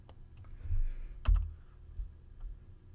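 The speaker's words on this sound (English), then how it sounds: "So we're going to type fillet," Typing on a computer keyboard to enter a fillet command for a gasket part: a few soft, quick keystrokes, one slightly sharper tap, close by over a quiet room hum, with no talking.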